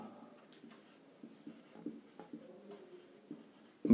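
Pen or chalk writing out a Class 10 quadratic-equation math solution, heard as soft intermittent scratching strokes with a louder knock at the end.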